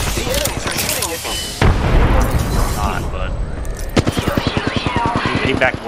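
Enemy gunfire in a zone-style shooter video game: rapid bursts of shots and booms, with a dense volley of evenly spaced cracks toward the end, loud and close under continuous player talk.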